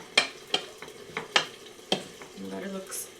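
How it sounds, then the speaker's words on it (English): Crispy spring salad tossed in a bowl: a string of sharp, close clicks and scrapes from the mixing, spaced unevenly over a few seconds, with no talking. "let me mix this up."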